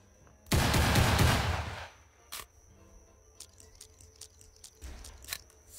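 Automatic Guycot Chain Carbine firing in a video game: a loud, dense burst of shots lasting over a second, followed by a single sharp report and scattered lighter clicks and impacts.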